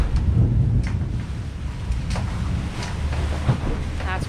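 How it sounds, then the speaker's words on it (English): Thunder rolls during a thunderstorm at sea aboard a sailboat, a loud, continuous rumble buried in heavy wind and wave noise with no clear breaks. "That's really close. The thunder."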